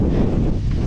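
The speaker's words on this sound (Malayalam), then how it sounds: "ഇപ്പം തന്നെ അമ്മാതിരി കാറ്റാണ്." Strong wind at a hillside viewpoint buffets the microphone in a loud, continuous rumble, with no voices over it.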